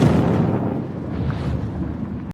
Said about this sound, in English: a clicking sound fills the air, followed by a loud explosion, as Tommy accidentally triggers a landmine